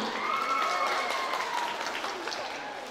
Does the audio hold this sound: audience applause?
yes